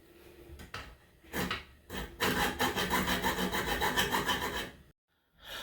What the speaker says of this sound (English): So I'm going to cut down the wedge in the back, cut down the T-bolts